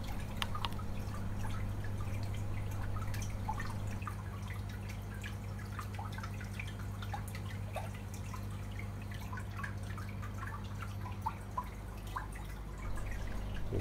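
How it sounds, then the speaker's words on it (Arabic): An aquarium wave maker keeps water churning and dripping in a steady stream of small splashes and trickles, over a constant low motor hum. "هبدأ اشغل التايمر اشوف الويف ميكر شغال مظبوط."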